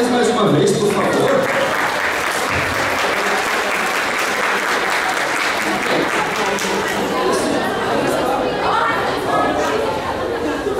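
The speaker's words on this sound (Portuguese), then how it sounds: "Palmas pra eles mais uma vez, por favor." An audience applauds cosplayers on stage at a Christmas 2023 cosplay parade. Loud, dense clapping continues without a break for about eleven seconds, with crowd chatter and voices mixed in.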